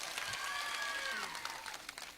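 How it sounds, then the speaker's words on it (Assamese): A crowd at a political rally led by Himanta Biswa Sarma breaks into applause, a dense, fairly distant clatter of clapping that swells and thins over a couple of seconds. "সকলোৱে ডাঙৰ কৰি হাত চাপৰি।"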